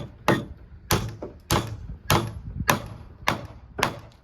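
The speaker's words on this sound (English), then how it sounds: "That's a proper hammer." A hammer strikes seven times at a steady, even rhythm, each blow a sharp, close, solid knock on a wooden or metal part while a throwing-arm device is being built.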